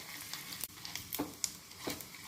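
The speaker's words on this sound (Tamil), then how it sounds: "உளுந்தம்பருப்பும் கடலைப்பருப்பும் நல்லா பொரியட்டும்" Urad dal and chana dal sizzle and crackle in hot oil for a pongal tempering, a steady close frying hiss with scattered pops and occasional stirring scrapes.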